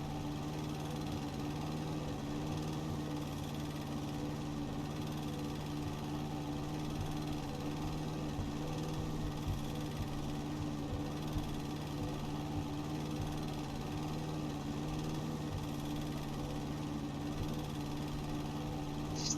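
A lawn mower in the House Flipper Garden DLC video game drones steadily for a long stretch, a constant mid-loud engine hum with a buzzing vibration and no pauses.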